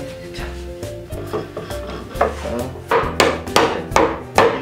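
Wood is struck by hand in a woodworking workshop: a string of close, knocking taps in an irregular rhythm, growing louder and sharper toward the end.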